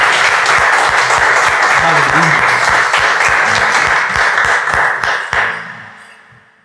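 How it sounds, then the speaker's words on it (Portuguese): A church congregation applauds during a sermon, a loud dense wash of clapping that holds steady for about five seconds before tapering off, with a voice calling out briefly over it. "Salva de palmas, Senhor"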